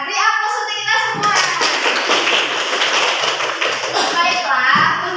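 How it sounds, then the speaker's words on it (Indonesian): A classroom of students breaks into loud, dense applause that lasts several seconds after the teacher's brief prompt, then tapers off. "Beri aplaus untuk kita semua."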